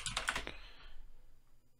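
Quick, close keystrokes on a computer keyboard tap out a short burst of about half a second, then fade into quiet room hiss.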